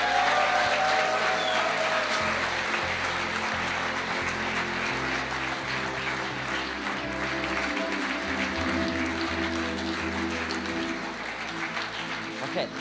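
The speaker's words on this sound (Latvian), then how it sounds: "draudz arī var izteikt savu pateicību saviem vadītājiem ar aplausiem" A church congregation at a tenth-anniversary celebration breaks into broad applause, a steady crowd of clapping hands lasting many seconds, with a sustained tone and some voices running underneath.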